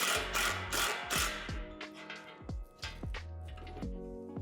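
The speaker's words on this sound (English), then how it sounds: "Only tighten until the truss rod doesn't wiggle." A ratchet clicks in rapid bursts while tightening a truss rod during assembly of a Lifetime 10 by 8 foot outdoor storage shed, with short pauses between strokes, close and crisp.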